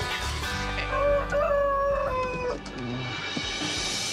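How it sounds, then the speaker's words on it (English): A rooster crows loudly and nearby with a drawn-out call in the middle, while a chicken clucks and other farm fowl call faintly behind it, with no talk. "I hate this chicken so much"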